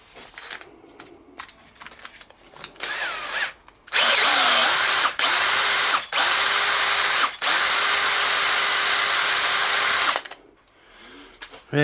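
A small power drill spinning fine emery tape to deburr a throttle body bore whirs in several long, high-pitched bursts with brief stops between, preceded and followed by light handling clicks.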